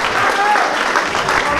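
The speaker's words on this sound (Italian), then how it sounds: "a Donnini io farei un grandissimo applauso, perché siamo veramente meravigliosi" Applause from an audience at a downhill cart race event, dense and continuous clapping with a voice speaking over it near the start.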